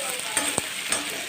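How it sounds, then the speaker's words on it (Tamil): Onions sautéing in a pan for chutney, a steady close sizzle with a few light stirring clicks and scrapes of a utensil, no voices. "நல்லா கொஞ்சம் நல்லா கூட வச்சுட்டு வதக்கிட்டோம்னா 2 நிமிஷத்தில் இது ரெடி ஆகிடும்."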